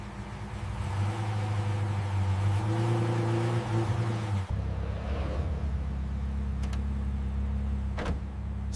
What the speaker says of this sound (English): Mechanics listened carefully as the V12 idled calmly